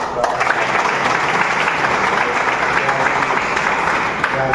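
A room full of party workers at a Congress district meeting in a hotel claps for a birthday, a dense sustained round of applause throughout with a few voices mixed in.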